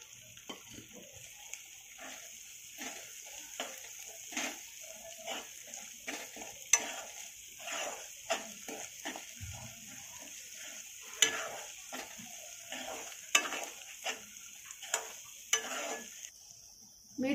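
A spoon scrapes and stirs in a frying pan as garam masala, Kashmiri red chilli powder and turmeric go in for spicy Kolhapuri kat vada, soft sizzling under irregular clinks, close and quiet.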